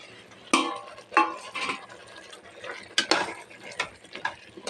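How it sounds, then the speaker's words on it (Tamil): Cut mushrooms are stirred in a frying pan for mushroom biryani, with a spatula scraping and clinking against the pan in irregular, close strokes. "இப்போது கட் பண்ணி வச்சுருக்கிற காளான் இதில் சேர்த்துக்கலாம்."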